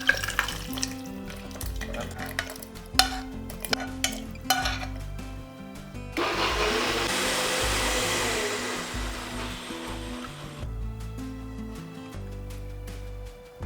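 A mixer grinder whirs loudly for a few seconds grinding a cooled spice paste for a pointed gourd dish, preceded and followed by clattering jar handling and clinks.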